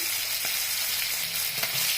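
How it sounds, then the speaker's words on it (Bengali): Fish heads deep-frying in hot oil, a dense continuous close sizzle with a couple of faint stirring taps. "মাছের মাথাগুলো এই দেখো একদম ভেজে নিলাম"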